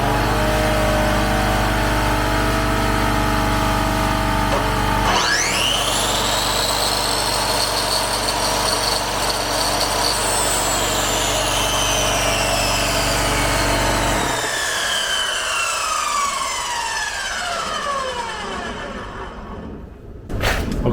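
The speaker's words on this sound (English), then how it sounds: "Okay, here is the pancake compressor and a chop saw." A pancake air compressor and a chop saw run together off a portable power station: a loud continuous motor drone, with the saw's whine spinning up sharply partway through and then winding down near the end.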